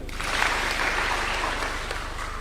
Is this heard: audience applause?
yes